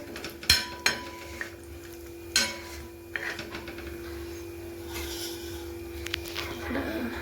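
Pots, pans and cutlery clatter in a home kitchen while a spiced mixture roasts in hot oil for a potato and pea dish, with sharp knocks early on and softer rattles over a steady hum.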